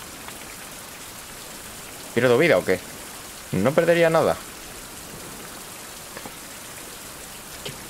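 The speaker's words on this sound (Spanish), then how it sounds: "¡Ojo, está lloviendo, tú!" Steady rain in the video game Survival: Fountain of Youth patters on a surface throughout, a soft even hiss, while a voice speaks briefly twice in the middle.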